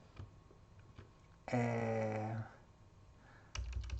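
A computer keyboard clicks in scattered keystrokes, close and quiet, with a short bright mechanical burst in the middle and more typing at the end.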